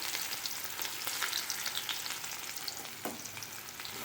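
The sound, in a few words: onions sautéing in a pan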